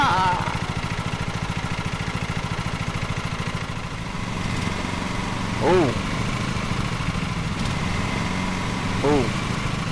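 Riding lawn mower engine in the Lawn Mowing Simulator video game, a steady buzzing drone running throughout at even loudness, with a couple of brief rising chirps standing out over it.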